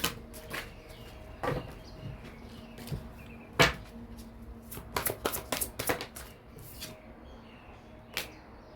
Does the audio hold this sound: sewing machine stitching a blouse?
no